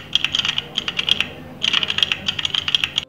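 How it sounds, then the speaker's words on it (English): Click-clack typing from a mechanical keyboard app styled after the IBM Model M, two bursts of rapid, crisp key clicks separated by a brief pause, loud and close with no voices. "So if you want a throwback keyboard with a click-clack sound"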